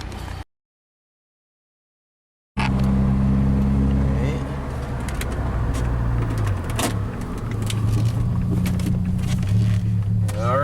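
A Saab car on a test drive hums along after a short silence, a steady engine and road drone with wind and rattles, loud and close, while people talk inside the cabin.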